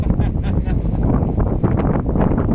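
Strong wind buffets the microphone on a sailboat at sea, a loud, rumbling roar that fills the low end continuously, with a voice talking faintly underneath.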